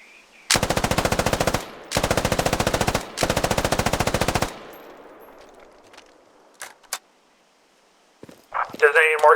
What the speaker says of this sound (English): Automatic riflemen and machine gunners carry a machine gun like this to the field. Firing from a supported position